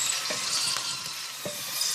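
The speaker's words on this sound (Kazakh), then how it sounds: "жарты сағат көлемінде орташа отта қуырамыз" Lamb lung fries in a pan for kuyrdak over medium heat, a steady close sizzle with a few soft stirring knocks, and no voices.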